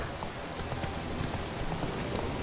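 Hoofbeats of Roach, a horse in The Witcher 3, clip-clopping in a steady rhythm at close range for the full stretch over a continuous rain-like hiss, with no talking.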